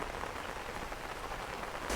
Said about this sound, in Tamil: எங்கள்ட ஊரில் வந்து மழை பெஞ்சால் என்ன மாதிரி இருக்குமென்னு சொல்லி, அதால் நான் இப்போ உங்களை எடுத்து காட்டுறேன்